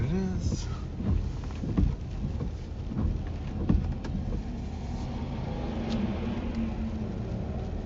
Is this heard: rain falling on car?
yes